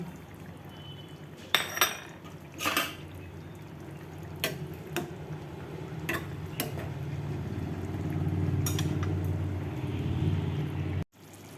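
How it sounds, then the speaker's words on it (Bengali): Fried paneer pieces drop one after another into a simmering potato, cashew and poppy-seed gravy, each a small soft plop or clink over a faint steady bubbling, with several separate hits spaced a second or so apart. "এবার আমি এক এক করে ভেজে রাখা পনিরগুলো দিয়ে দিচ্ছি"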